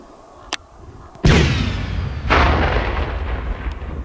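A cluster munition element is blown up by remote electric detonation in a dug pit: one sharp, loud blast followed by a long rumbling roar, then a second burst of rumbling debris noise, heard alone outdoors.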